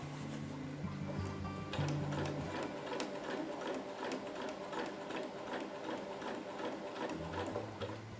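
A sewing machine steadily stitching Hyper D ripstop fabric for an ultralight hammock, a fast, even mechanical whirr with regular clicking pulses, close and continuous throughout.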